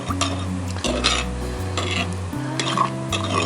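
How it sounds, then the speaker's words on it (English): Cornstarch slurry gets stirred into broth in a Dutch oven over charcoal, a spoon scraping and clinking against the cast iron in quick strokes over a low steady hum. "We're going to put that down there in the broth. Give it a stir."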